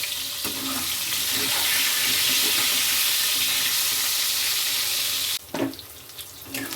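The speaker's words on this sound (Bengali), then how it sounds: "পটলগুলো লাল লাল করে ভাজা হয়ে গেছে" Pointed gourd (potol) frying in oil with turmeric and salt gives a steady, close sizzle that runs evenly for several seconds, then cuts off abruptly near the end, leaving a few brief clatters.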